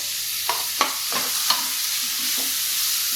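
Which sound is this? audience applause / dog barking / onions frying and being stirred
onions frying and being stirred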